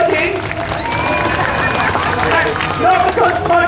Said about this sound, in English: can everyone give Kristen a big clap of cheers for smoking?